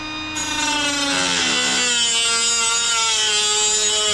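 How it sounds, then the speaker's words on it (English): Power cutting straight across a Losi RC car chassis at the motor mount, a loud steady whining grind with shifting tonal harmonics that runs for the full few seconds, close and alone. "We're just gonna cut it across. This is where the motor mount goes."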